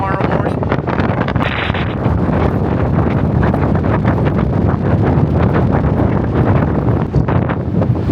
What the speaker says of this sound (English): I think this is definitely the windy side of the tower